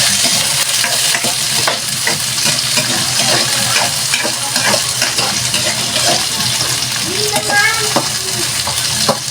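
Tomatoes and onions are stirred and fried in a pan for a fish soup, a loud, dense, continuous sizzle with scraping stir strokes throughout and no talk.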